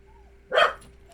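Single dog bark heard indoors from a house dog, one short fairly loud woof against a quiet room with a faint steady hum.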